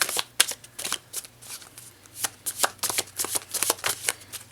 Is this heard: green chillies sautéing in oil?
no